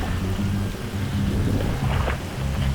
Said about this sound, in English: It's raining, and sometimes when the mic gets water in it, it's no good.